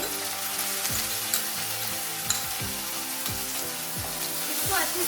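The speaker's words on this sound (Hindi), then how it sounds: "अभी हम इसमें डालेंगे 2 teaspoon ginger and garlic paste." Ginger garlic paste sizzles in hot oil with fried onions for dal makhani, a loud continuous crackle broken by stirring scrapes from a spoon against the pan.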